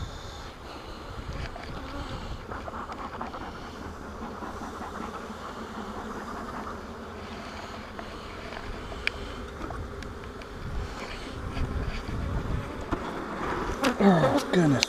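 Honey bees hum continuously around an open hive during an inspection, a dense close buzz that swells slightly toward the end, with occasional handling clicks and a person speaking intermittently.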